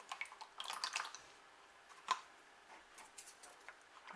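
Faint drops of baby oil fall in a quiet room, making soft scattered ticks and light drips with one slightly louder drop midway.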